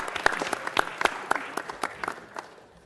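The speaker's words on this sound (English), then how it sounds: "Let's give them all another round of applause" A city council meeting audience gives a brief round of scattered applause, sparse individual claps that fade out within a few seconds.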